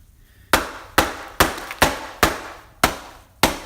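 A hammer smashes old cloth-covered buttons on a hard surface in seven sharp, separate blows, each a loud close crack that rings briefly and dies away, spaced roughly half a second apart.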